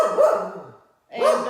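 A dog barks twice, loud and close, indoors while someone sews a lap quilt top. The two sharp barks are split by a short silence.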